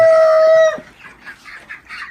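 Broiler chickens on a farm in the early morning, a loud sustained tonal call cutting off sharply, followed by softer scattered clucks from the flock nearby.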